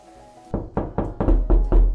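Six sharp knocks land on a door in a Roblox Brookhaven game, spaced evenly and growing slightly louder and closer, ringing out alone after a faint background tone cuts off.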